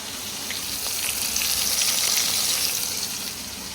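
Fish fries in a pan with a loud, close, continuous sizzle and hiss that swells slightly in the middle. No one talks.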